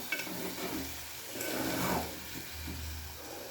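Scrambled egg curry is stirred quickly in a pan, soft scraping and rubbing strokes with a faint sizzle underneath, quiet and close, in a few uneven swells.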